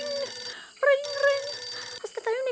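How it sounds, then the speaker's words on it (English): A telephone bell rings in repeated bursts, loud and close, with short electronic trilling tones and a brief gap between rings. "That's the phone again. Can we answer this one?"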